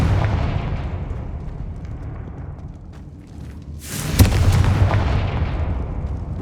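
Confringo fire spell in Hogwarts Legacy erupts in a sudden loud explosive blast midway, followed by a rumbling roar that fades, preceded by a decaying boom from an earlier blast.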